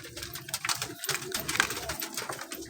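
Teddy pigeon chicks cooing softly and repeatedly close by, faint rhythmic calls with little else around.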